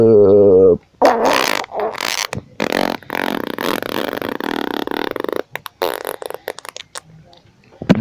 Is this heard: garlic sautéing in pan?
no